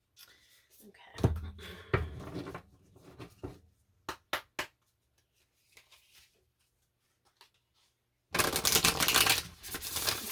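Tarot cards shuffle and slap on a table in bursts of close papery riffling and sharp taps, with quiet gaps in between and one long dense shuffle at the end.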